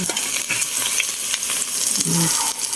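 Food sautéing in bagoong shrimp paste in a pan, a loud continuous sizzle with repeated stirring scrapes and clatters, close up and with no talking.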